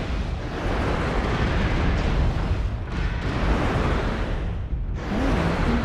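A missile strikes in a mech video game, producing a sustained roaring blast rumble that surges and dips across several seconds, loud and close, with no speech.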